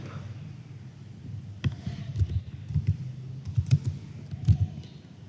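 Keystrokes tapping on a computer keyboard while entering slide text in PowerPoint, a soft scattered run of clicks that starts sparse and grows into quick bursts, close and fairly quiet, with no talking.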